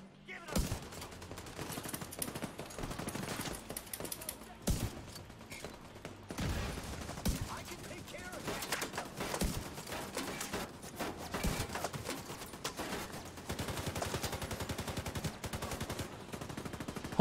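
Video game gunfire in The Division comes as rapid bursts of automatic shots and single cracks, fairly quiet and scattered through the clip, with a voice heard faintly at times.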